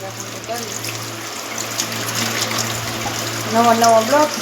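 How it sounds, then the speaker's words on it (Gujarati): Slow water running from a household tap during dishwashing with soap, a steady low wash of flow continuing throughout, with a voice talking briefly near the end. "પાણી તો ધીમું ધીમું બહુ જ આવે"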